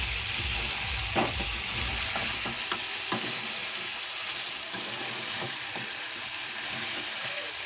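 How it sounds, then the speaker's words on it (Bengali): A ground paste of coriander, ginger and garlic masala frying in a pan while it is stirred, a dense continuous sizzle with a few scraping strokes and taps early on, steady and close, no speech. "এটাকে ভালো করে কষাতে হবে অনেক সুন্দর"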